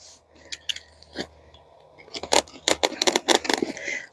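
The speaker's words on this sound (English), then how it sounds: "I think this actually might be better with the scissors." Scissors snipping through material indoors, a few sparse cuts at first, then a quicker run of sharp, close crunching snips toward the end.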